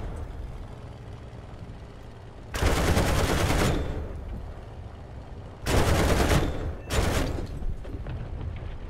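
Machine gun fire from a German fighter plane in the War Thunder combat game: three sharp, loud bursts, the first long and two shorter ones close together, over a low steady engine drone.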